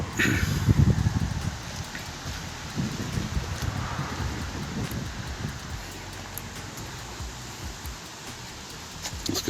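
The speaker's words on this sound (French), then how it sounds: "Il y a un peu de vent, je sais pas si vous m'entendez bien." Gusty wind buffets the single microphone of a Realme 6 phone, producing rumbling low thumps and rustling noise that swell strongly at first and then settle into a steadier rush.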